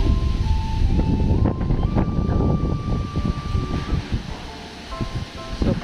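Super Typhoon Odette winds roaring outside in Bohol, a steady loud broadband rush with gusty surges and rattling, plus a faint high whine running through the whole stretch.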